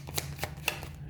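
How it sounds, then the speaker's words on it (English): A deck of tarot cards is being shuffled close by, a few quick riffling swishes in an uneven rhythm over a low steady hum. "It's a little bit difficult to shuffle this deck on camera, so I will shuffle it off camera."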